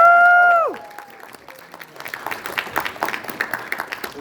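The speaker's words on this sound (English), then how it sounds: "Can I get a big round of applause for that?" Convention crowd at Fan Expo Toronto breaks into applause and scattered cheers after a short burst of voice at the start, a broad wash of clapping that swells steadily and keeps going through the end.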